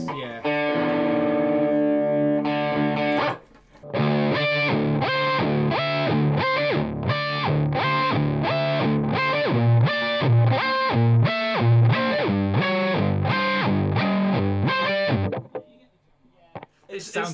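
An electric guitar played through a pitch-shifting pedal, an Electro Harmonix Pitchfork or Digitech Whammy Ricochet, strums a brief chord and then a fast rhythmic pattern of loud, distorted, doubled chords, close and alone.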